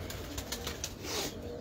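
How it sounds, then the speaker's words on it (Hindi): Home-bred racing pigeons at a Karachi loft give brief cooing and fluttery calls against a steady outdoor background, close and moderately loud over a short stretch. "यार रफ़ीउल्लाह भाई जितने उड़ रहे हैं कबूतर सारे होम ब्रीड ही है ना?"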